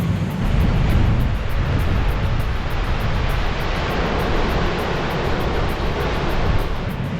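A steady, loud roar of rushing water from Gullfoss waterfall in Iceland pours continuously, with a bit of wind buffeting the microphone and no voices.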